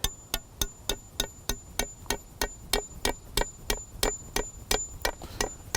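A mallet taps repeatedly to knock a handle loose: about twenty sharp, ringing knocks in a steady, even rhythm, close and distinct with brief gaps between strikes.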